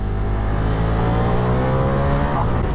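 A 2023 Ducati Diavel V4 motorcycle engine drones steadily and loudly while it is ridden. Its pitch holds nearly even and drifts slightly lower toward the end, with wind rush mixed in.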